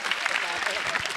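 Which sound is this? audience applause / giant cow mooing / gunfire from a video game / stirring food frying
audience applause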